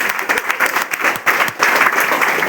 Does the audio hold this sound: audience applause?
yes